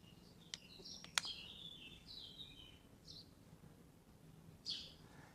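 Birds in Lisbon give faint, scattered chirps and short twittering phrases over a low, steady outdoor hum, with a few soft clicks and no speech.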